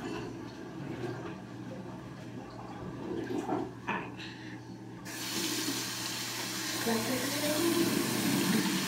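Water runs from a tap during washing, starting as scattered splashes and handling noise, then turning into a steady, louder gush of flowing water for the last few seconds; faint speech-like sounds sit underneath.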